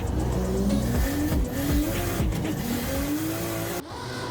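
A race car in the Project Cars 2 VR racing simulator revs hard through repeated rising engine sweeps as it shifts gears. Tire squeal mixes in, and the sound stays loud and close before cutting abruptly near the end.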